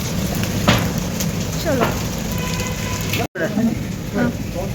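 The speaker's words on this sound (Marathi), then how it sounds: "आला पाऊस आला" Rain beginning to fall outdoors near a parked scooter, a steady hissing wash with scattered drops that runs the whole stretch while people talk over it nearby.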